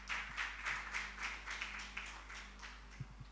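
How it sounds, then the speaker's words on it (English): A modest audience claps at a celebration marking 25 years of the Uganda Forex Bureau & Money Remittance Association, a soft, fairly faint patter of hands with rhythmic bursts under a low steady hum. "let's clap for you."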